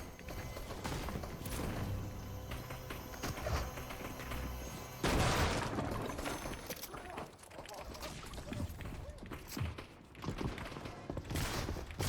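Bursts of rapid gunfire and loud impacts in a Fortnite match, dense and close, with players talking over the action.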